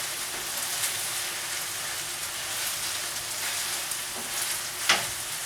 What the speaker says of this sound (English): The rice is getting all brown now from the soy sauce and frying up real nice.